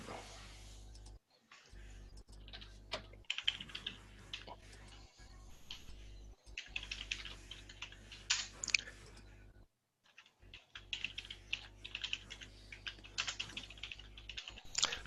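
Keys clatter on a computer keyboard in quick, irregular bursts with short pauses between runs, close and fairly quiet against a faint background hum.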